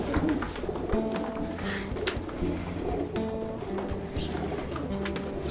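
Several pigeons coo in repeated low, rolling phrases close by, overlapping one another at a steady pace with faint rustling in the background.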